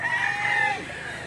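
A rooster crows once at a chicken auction market in Lipa, Batangas, a single drawn-out call fairly close, heard over a faint background murmur.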